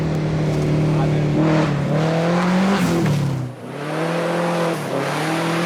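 A rally car, back in all-wheel drive, races along a stage, its engine revving up and down through gear changes, loud and close, with a commentator's voice over it.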